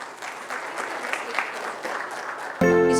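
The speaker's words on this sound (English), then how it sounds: "can we have a big round of applause for this wonderful session by Mr. Jivraj?" Conference audience at a logistics and warehousing expo applauds after a session, a steady dense patter of clapping that ends abruptly as a loud musical sting cuts in for the final half second.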